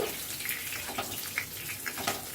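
Snacks fry in hot oil in a pan over a high gas flame, a soft steady sizzle with faint crackles as oil is spooned over them.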